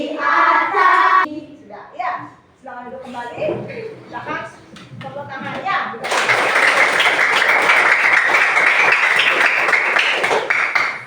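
Children in a classroom break into loud, dense clapping that starts abruptly partway through and carries on steadily to the end, following a stretch of an adult speaking.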